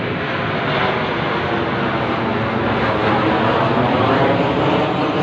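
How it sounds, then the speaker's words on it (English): An airplane passes overhead above Sydney, a loud, steady broadband engine roar that fills the whole stretch without fading, with no one talking over it. "this plane that's coming over my head may or may not be actually piloted"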